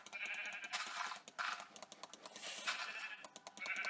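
Sheep in the video game Minecraft, played in the Tekkit modpack, bleating repeatedly in quick bursts, loud and close, amid clicky game sounds with no talking.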